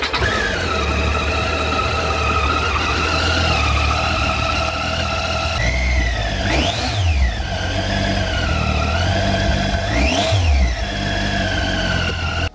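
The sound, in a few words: motorcycle engine balance shaft whine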